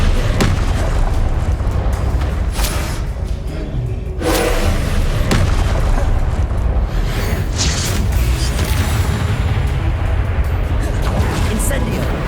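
Confringo and Expelliarmus spell blasts in Hogwarts Legacy: dense, continuous booming combat with repeated heavy thuds and bursts under a steady roar, a voice speaking over the din.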